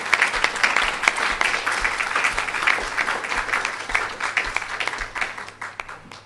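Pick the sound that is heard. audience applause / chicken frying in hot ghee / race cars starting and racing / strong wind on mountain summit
audience applause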